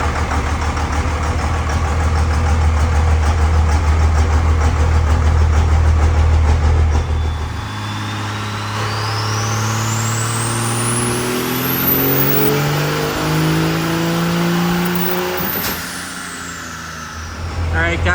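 A truck fitted with a Scheid stage 2 VP44 injection pump and a custom Quadzilla tune runs on a dyno: a loud, steady low rumble, then the engine revs up with a long rising whine that peaks and drops before settling.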